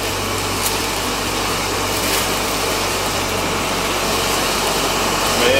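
An ADJ Entourage fazer/hazer machine blows with a steady, loud broadband rush of air and fan noise that holds constant throughout, close by and alone.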